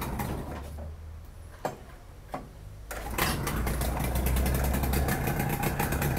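A Yamaha 30 HP outboard motor turns over with a few sharp clicks, then catches and runs at a steady, fairly loud idle that continues to the end.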